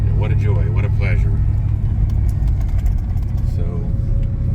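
A 2003 Saleen Mustang with a Kenne Bell intercooled supercharger rumbles steadily at close range, a deep continuous engine drone, with a voice talking over it.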